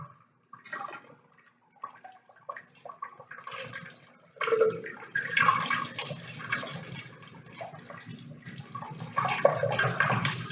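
Water streaming out of holes at different heights in a container during a physics demonstration of efflux velocity, starting as scattered drips and trickles, then swelling into a steady, close splashing flow.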